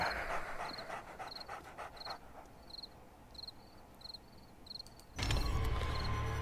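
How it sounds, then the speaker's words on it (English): A pack of dogs in the zombie survival game 7 Days To Die pants and breathes in quick repeated bursts, moderately loud, over a quiet insect-like chirping ambience before a louder rush of noise at the end. "what a bad time to have the dog horde show up."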